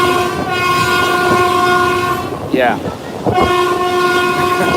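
Train rolling past on a morning walk in Kanchanaburi, with a steady rumble and clatter and a loud, sustained horn blast that fades briefly in the middle, and one voice says a single word.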